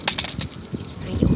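A blackbird takes off near cattle, its wings flapping in a quick, close flurry of soft beats that fade as it flies away.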